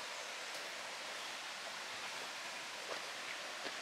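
A small jungle waterfall in Fiji gives a steady, soft broadband rush of falling water, continuous and fairly distant, with no talking.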